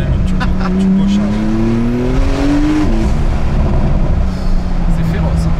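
A Porsche 911 991.2 GTS turbo engine accelerates hard, its rising engine note climbing steadily for a few seconds before easing off, loud and close inside the cabin.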